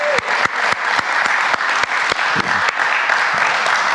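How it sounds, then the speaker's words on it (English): Steady applause from an audience at a live recovery event, sustained and fairly loud throughout with individual claps audible within the dense wash of hands. "Give David a nice round of applause."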